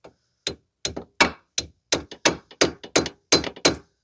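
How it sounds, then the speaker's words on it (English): A hammer strikes the nut left on the ball joint stud of the front lower control arm on a 2006 Mazda 3 2.3. About a dozen sharp metallic blows come close and loud in a steady, fairly quick rhythm. "I'm just going to use a hammer to top it out."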